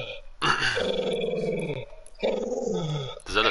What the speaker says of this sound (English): Ah, it's my dog.